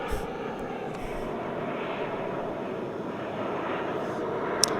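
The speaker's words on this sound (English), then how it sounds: "wait until this airplane passes" A fixed-wing airplane passes overhead, its engine making a steady, loud, broad roar that holds through the whole stretch with no talk over it.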